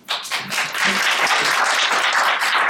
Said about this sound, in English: I'd like to begin by thanking the staff. Little round of applause.